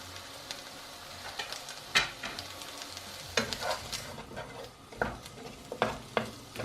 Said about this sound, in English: I just want to fry them off just a little bit in the garlic